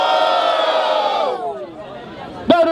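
A crowd at a freestyle rap battle in São Gonçalo roars with sustained cheering and shouting that fades after about a second and a half, then a single voice shouts up close.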